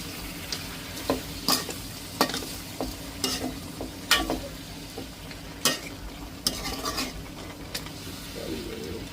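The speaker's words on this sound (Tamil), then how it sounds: "உப்பு தேவையான அளவு போட்டு நல்லா மிக்ஸ் பண்ணிடுவாங்க" Meat curry being stirred and mixed with salt in a pot, with repeated sharp scrapes and clanks of the spoon against the metal over a low sizzle, loud and close.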